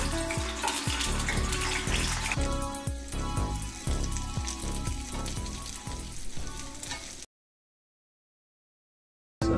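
Nepalese momo dumplings fry in hot oil in a pan, a dense, steady crackling sizzle with irregular pops, close and continuous before it cuts to silence near the end.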